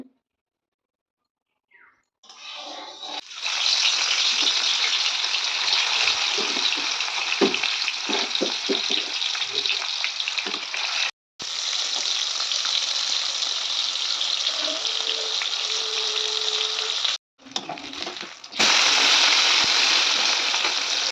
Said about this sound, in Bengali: মাছটা আমি এখন ভাজবো। কড়ার মধ্যে দিয়ে দিয়েছি তেল।